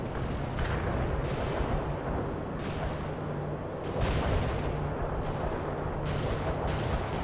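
Dense battlefield gunfire and tank cannon shots in the World in Conflict: Soviet Assault strategy game form a continuous roaring rumble of overlapping blasts and bursts. A few heavier booms stand out, and no one speaks.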